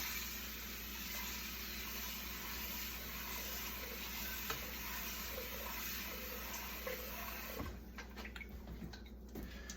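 Water poured off a pot of washed basmati rice, a continuous low splashing rush that holds steady and then breaks into lighter trickles and drips near the end, with no talk.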